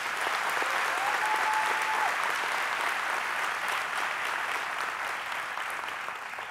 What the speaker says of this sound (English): So give our youth a hand clap this morning, everybody.